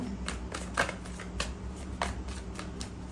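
Tarot cards are shuffled by hand in a run of crisp, close riffling bursts, a few seconds long, with no talking.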